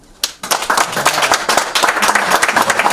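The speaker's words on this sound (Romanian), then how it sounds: "dar stârnește aplauze" An audience at a literary book launch in Comănești, Romania, bursts into applause after a song: clapping starts abruptly and continues as close, lively, uneven hand claps.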